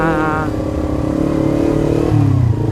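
A Kawasaki Ninja 250 FI motorcycle engine revs loudly up close, pitch rising and falling, ending in a deeper throaty roar.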